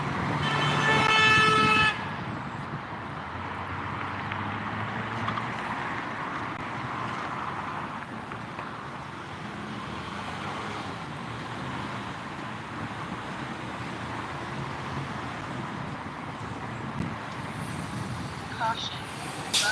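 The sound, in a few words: bus turning in street traffic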